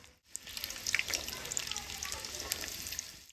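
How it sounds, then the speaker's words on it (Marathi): Garlic drops into hot oil in a pan, giving a close crackling sizzle with sharp pops and spatters that continue steadily, with no talk over it. "आता आम्ही लसूण टाकतोय"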